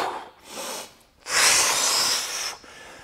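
Heavy breathing during a plate crunch ab exercise: a forceful hissing exhale through the mouth after short softer breaths, close to the microphone with no talking.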